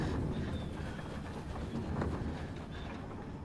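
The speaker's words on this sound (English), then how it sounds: "listen, it sounds like a train" Train travel ambience in the video game Night in the Woods: a steady, low rumbling of rolling wheels with faint rattles, continuous and even throughout.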